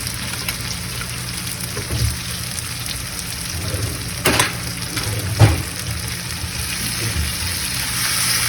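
Ginger garlic paste sautéing on medium flame for chicken biryani, a steady soft sizzling hiss with a few faint clicks and spatters throughout.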